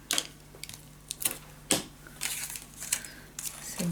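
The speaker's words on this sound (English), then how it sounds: "Let me first add some tape on" Adhesive tape pressed onto a scrapbooking page of a fairy-woods keepsake treehouse box, heard as close, irregular crinkles and sharp ticking clicks spread over a few seconds against a quiet room.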